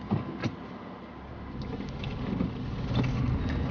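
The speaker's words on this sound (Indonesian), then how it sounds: "Jadi sekarang kita langsung jalanin mobilnya aja." A 2000 Toyota Soluna GLI with a manual gearbox pulls away, its engine heard from inside as a low hum that rises gradually with some faint clicks and knocks.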